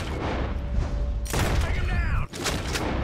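Gunfire from enemies in Red Dead Redemption 2 comes as dense bursts of loud, rapid shots over game music and ambience. They break off briefly near the end, then resume.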